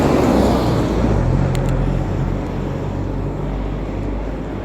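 Road traffic near the Sharjah Corniche, a steady dense roar of passing vehicles heard continuously and fairly loud, with no talk.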